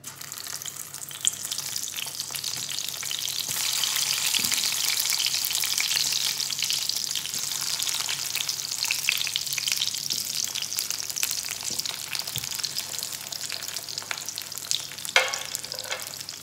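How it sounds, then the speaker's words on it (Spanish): Chicken nuggets fry in a pan with a loud, continuous sizzle that builds and holds for the whole stretch, with occasional soft stirring clicks and a brief clatter near the end. "ya tenemos aquí la sartén para freír los nuggets"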